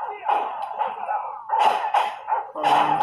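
Dogs bark in short bursts over a busy Call of Duty game soundtrack, several loud yelps clustered near the end.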